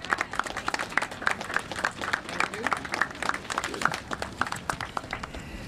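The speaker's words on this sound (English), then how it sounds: "Can we hear another round of applause for those great words and motivation?" A crowd applauds steadily, dense clapping throughout with some cheering mixed in, moderately loud and sustained.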